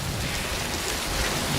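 A bad thunderstorm in Pittsfield, Massachusetts: steady, dense rain roars with a low rumble of thunder underneath, continuous and loud throughout with no voices.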